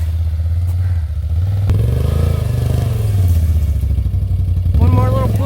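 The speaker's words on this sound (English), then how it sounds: "We're gonna see if we can back up that four-wheeler." A four-wheeler idling and revving as it backs a trailer loaded with firewood in winter, a steady low engine drone with rising throttle near the end; a voice speaks briefly over it.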